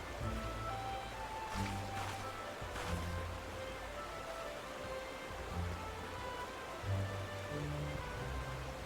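Rain falls steadily in Final Fantasy XIV, a soft continuous hiss that stays faint and even throughout, with low game tones drifting underneath.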